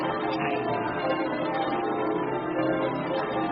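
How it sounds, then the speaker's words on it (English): A church bell rings continuously inside a tower's bell chamber as a radio drama effect, a dense, loud, sustained metallic wash of overlapping tones with no talk. "Rocking and reeling with the reeling of the bell."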